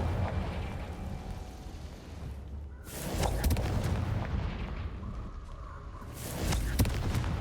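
A Confringo fire spell in Hogwarts Legacy detonates as rolling, booming blasts, with heavy surges of rumbling explosion and crackle repeating several times in a loud, dense battle mix.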